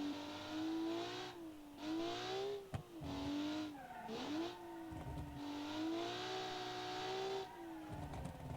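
A heavy, long-wheelbase race car in a BSCC race revs hard through the gears, its engine note climbing and dropping with each shift, loud and close, with brief lifts and a sharp knock near three seconds.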